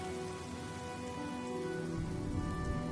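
Steady rain falls in the Honkai Star Rail game world, a continuous broad hiss of drops on surfaces, fairly loud and unbroken, with low tonal game music humming underneath and no voices.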